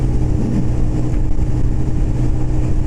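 A 125cc motorcycle engine held at full throttle just over 7,000 RPM, a loud, continuous strained drone with steady low rumble and no change in pitch.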